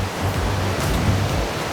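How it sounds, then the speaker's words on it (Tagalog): Sea waves wash onto a beachfront on Camiguin, a steady broad surf rush with gusty low rumbles and no voices. "I can hear the dagat."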